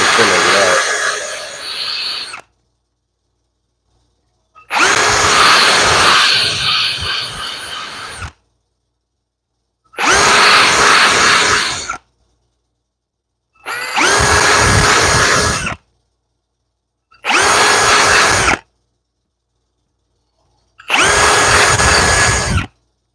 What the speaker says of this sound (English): And I got to use my cordless drill.